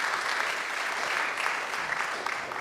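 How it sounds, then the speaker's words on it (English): Steady applause from an audience honouring a board of trustees at a gathering, a dense even wash of clapping sustained throughout at moderate level with no speech over it. "Would the members of the board please stand and receive our applause?"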